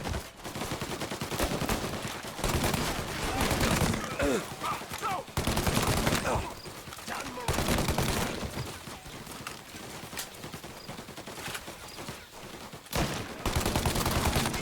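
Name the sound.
gunfire in Mafia: Definitive Edition video game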